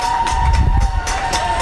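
People cheer and clap from windows across New York City, a far-off wash of crowd noise with scattered claps and shouts over a steady hum.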